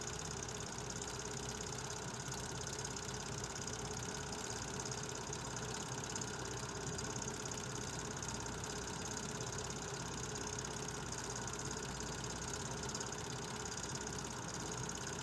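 A diesel switch engine locomotive idles on an industrial siding near Louisville, Kentucky, with a constant, loud engine rumble and a steady vibrating drone that stays even throughout.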